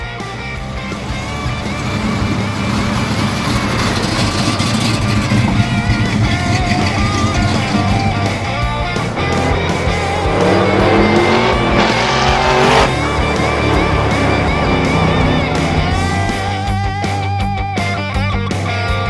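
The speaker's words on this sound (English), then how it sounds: "So you want to drive the Buick in the back?" A Buick car drives past and accelerates, loud engine roar with shifting pitch and some tire noise, close up and continuous over nearly twenty seconds, with no talking.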